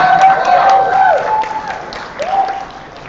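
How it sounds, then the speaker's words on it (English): A conference audience at a live summit event gives a round of applause, loud dense clapping that swells at the start, eases, then rises briefly again, with a sustained tone and a few voices mixed in. "Can I get that round of applause again?"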